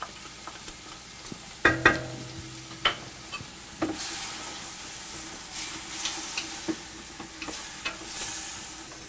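Onions and garlic sauté quietly in a pan with a soft, steady sizzle, broken by several sharp clanks and scrapes of stirring.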